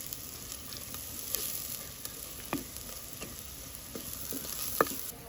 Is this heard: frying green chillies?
yes